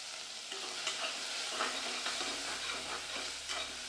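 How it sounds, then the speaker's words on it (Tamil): Mushroom biryani ingredients sizzle and fry in a pan, with the steady crackle broken by repeated scraping stirs close to the microphone, no voices. "நல்லா வதக்கி விட்டுக்கலாம்."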